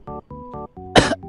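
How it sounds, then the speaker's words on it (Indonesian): A single harsh cough bursts out, close and loud, through a helmet intercom microphone while riding at 90 km/h, following several seconds of steady tonal hum, with a shorter throat sound trailing after. "Saya batuk guys."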